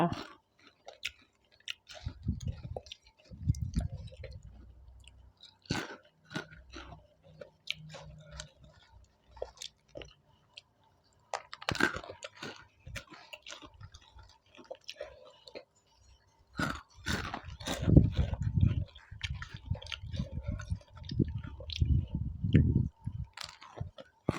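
Close, quiet chewing of enoki mushroom chili paste, irregular wet bites and mouth sounds in bursts with pauses between them.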